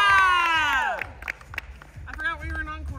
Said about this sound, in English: how about another huge round of applause for these performers?